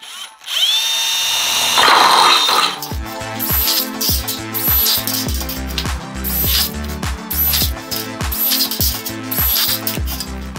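A power drill with a 5 mm steel bit pre-drills a floor rail for a plasterboard partition into a concrete slab, giving one loud, close whirring burst of a few seconds before music takes over.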